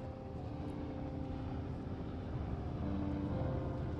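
Helicopter arriving in the Firewatch wilderness lookout game, a low continuous rotor drone that holds steady then swells slightly nearer, with no talking.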